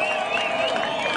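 A crowd claps for a woman politician at a Swahili-speaking public gathering in Kenya, a brief burst of dense applause mixed with a held tonal sound.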